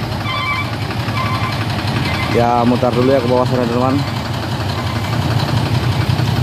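A tanker truck's diesel engine idles with a steady low rumble while turning around, heard up close under someone talking throughout.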